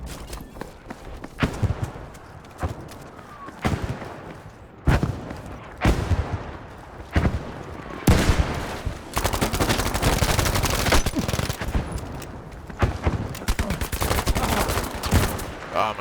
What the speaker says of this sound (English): they called it an artillery strike